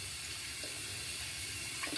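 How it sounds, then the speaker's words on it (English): A shaving brush knot rinsed under a running tap, a steady close rush of water into a sink lasting the whole two seconds with no talking. "I'm gonna rinse it a little bit more, just to make sure there's no soap in there whatsoever"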